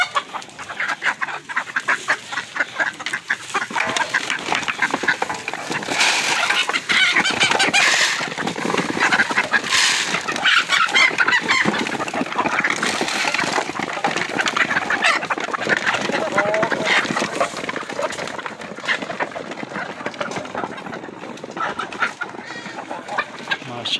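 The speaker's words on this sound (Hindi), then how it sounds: "अभी हम ये अपनी इन मुर्गियों को देते हैं।" Golden Misri hens cluck and squawk in a dense, loud chorus while being fed corn and barley, with a voice calling to them now and then over the flock's steady noise.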